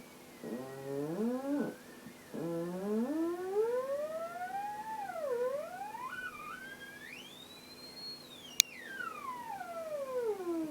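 A homemade transistor-based theremin gives a continuous electronic tone that swoops and glides up and down in pitch. It sounds alone, fairly loud, with a brief sharp click near the end.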